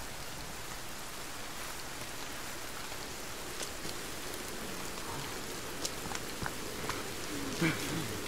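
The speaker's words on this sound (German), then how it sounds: "Der Regen ist auch schon laut." Rain in the survival video game Sons of the Forest, a constant hissing patter of drops at moderate level with a few sharper taps and faint bits of other game sounds toward the end.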